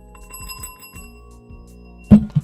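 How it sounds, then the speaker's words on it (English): A desk bell gives two quick dings close to the mic near the end, loud and bright over a quiet room with faint steady tones in the background. "Let me actually hit my bell."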